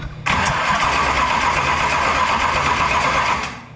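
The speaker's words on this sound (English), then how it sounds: "we take and turn the motor over to cycle it through" A race car engine is cranked over by its starter without firing, a loud, fast, even whirring chug that runs continuously for a few seconds and then winds down.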